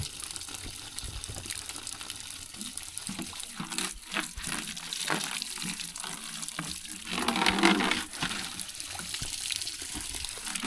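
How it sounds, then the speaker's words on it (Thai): Mountain spring water pours and splashes steadily from a bamboo pipe, a continuous gushing flow that swells louder briefly near the end. "น้ำไหลจากภูเขาพี่น้อง ตัดกระบังไม้ไผ่"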